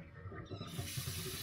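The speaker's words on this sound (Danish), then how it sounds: "Jeg skal lige have noget lidt vand i." Water from a kitchen tap pours into a pot in the sink with a steady, close splashing rush that starts soft and quickly grows fuller and brighter.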